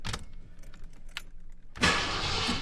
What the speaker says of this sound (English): the engine now cranks from the key